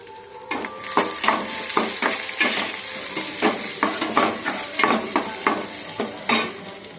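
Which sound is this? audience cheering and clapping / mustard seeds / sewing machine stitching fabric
mustard seeds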